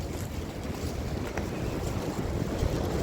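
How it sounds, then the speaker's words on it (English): Wind howling and buffeting outdoors beside a creek in wooded country, a steady rough rush with gusty swells and no voices. "Yeah, the wind is howling."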